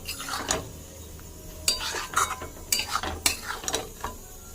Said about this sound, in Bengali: কষিয়ে নেব মশলা।